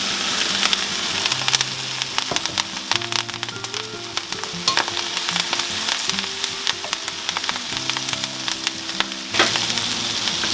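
Kale and kale stems sautéing in a pan for garden pesto pasta, stirred with a wooden spoon: a steady close sizzle runs throughout, broken by repeated scraping and clacking strokes of the spoon, with no talking.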